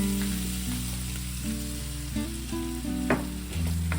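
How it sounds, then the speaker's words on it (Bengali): Spice masala with salt sautés in a pan, a soft continuous sizzle joined by a few sharp stirring clinks, close by with no talking over it. "এক চা চামচ মতো নুন দিয়ে ভালো করে এই মশলাটাকে কষাবো"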